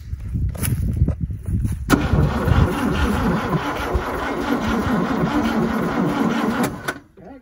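A 1971 vehicle's engine cranks on a low battery, a loud, steady, labored churning that runs for about five seconds without catching before it stops, with a few knocks just before it begins.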